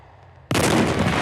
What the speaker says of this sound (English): More tanks are torn to pieces with loud explosions.